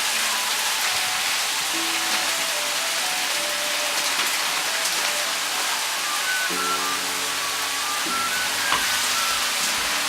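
Ground meat for a tourtière frying in a pan gives a dense, steady hiss and sizzle, close and continuous, with a few faint clinks and background tones.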